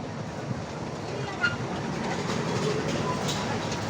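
A train runs on rails through a snowy, scenic tourist area, making a steady, continuous broadband rumble with faint voices underneath.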